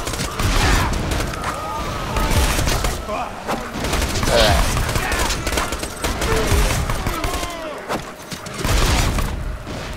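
In the video game Borderlands 2, pistol fire mixes with booms and mechanical clatter. The sound is dense and continuous, with bursts of shots and impacts over loud background noise and some talk.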